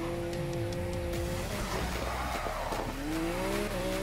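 A twin-turbo Lamborghini Aventador SVJ in a racing video game roars at high speed, engine pitch falling and climbing as tires squeal through a skid, loud and continuous.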